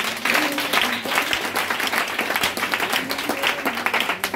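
A church congregation bursts into applause during a French-language worship service, steady dense clapping from many hands filling the room throughout.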